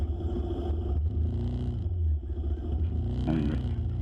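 A vehicle crosses a short, weakened bridge, heard from inside as a steady, loud low rumble of engine and road noise that dips briefly midway and then resumes; no one speaks.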